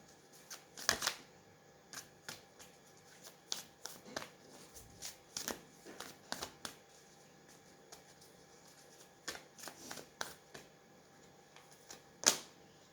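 Tarot cards are shuffled in repeated quick bursts of soft riffling and tapping, close by and fairly quiet, with short pauses between.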